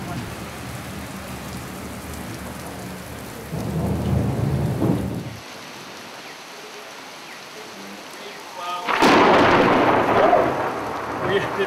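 A thunderstorm with steady rain on surfaces and two loud thunder rumbles, one swelling and fading, a later one cracking sharply and lingering over the downpour.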